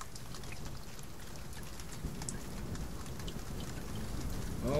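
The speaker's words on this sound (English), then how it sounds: "All this rain." Steady rain falls in the survival video game The Forest, a continuous soft patter with faint drop ticks, no speech over it.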